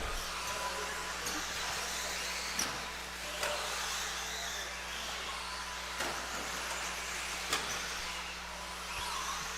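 A car engine drones steadily at a distance on a race track, with a few sharp thumps and clatters from the car's landings breaking through the continuous rumble.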